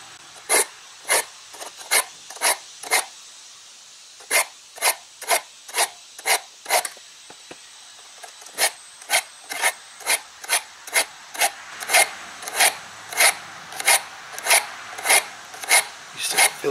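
A Zwickey traditional broadhead drawn through an Allen broadhead sharpener, giving steady, evenly spaced rasping strokes, close and loud, repeating at a brisk rhythm with no talking.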